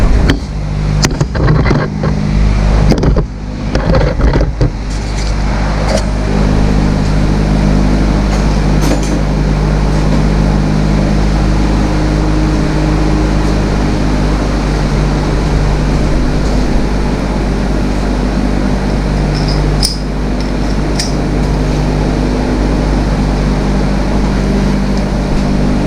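A Kohler 15.5 HP engine runs loud and steady, with a deep continuous rumble and a few rattling knocks and clinks at the start as it catches, then holds an even drone.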